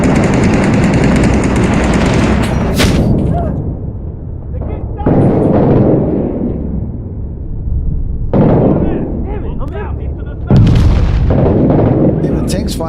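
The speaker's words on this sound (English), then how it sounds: "Yeah, the tank's firing too." A tank fires in the video game Six Days in Fallujah, sending loud booming blasts that each cut off sharply, with rattling gunfire and shouted talk between players around them.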